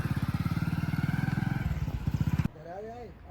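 A motorcycle engine idles close by with a fast, pulsing putter, then cuts off abruptly, after which a voice speaks.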